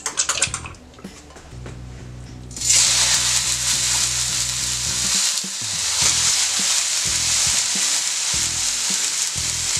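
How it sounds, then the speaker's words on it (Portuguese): Pistachio-breaded beef steak searing in a thin film of heated olive oil, a loud steady sizzle that bursts in suddenly after a quieter start with faint clinks, then holds strong and continuous to the end. "Depois vamos selar a carne. Para isso basta aquecer apenas um fio de azeite de oliva."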